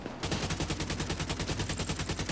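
Rapid automatic gunfire from a heavy-recoil weapon in the video game The Division 2, a steady stream of evenly spaced, loud shots running without pause for the whole stretch.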